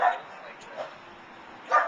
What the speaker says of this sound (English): We have a dog that's helping us out